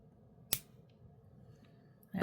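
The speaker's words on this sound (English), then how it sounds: "Pull it off and snip off the excess." A single crisp snip of jewelry wire cutters trimming excess wire from a handmade ring, near and alone against quiet room tone, followed by a soft handling rustle at the end.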